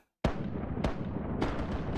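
Ship cannons firing in a pirate sailing game: three loud booming blasts about half a second apart, each leaving a long rumbling decay, the first breaking out of silence.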